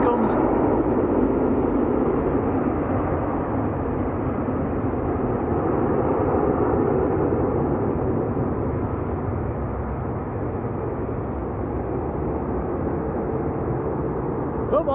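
A British Airways airliner arriving on runway 23L at Manchester Airport gives a sustained, loud jet roar that holds steady throughout, with people speaking nearby over it.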